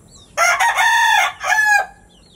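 A gamefowl breeding rooster crows loudly and close up in one long broken call, with clucking fowl nearby in a backyard farm setting.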